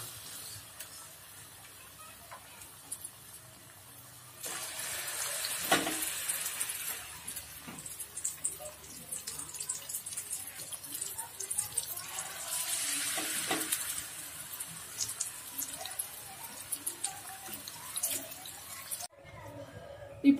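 Batter-dipped sweet dumplings drop into hot oil for deep-frying, with a loud bubbling sizzle that rises suddenly and keeps crackling and hissing close by, surging again midway before cutting off at the end.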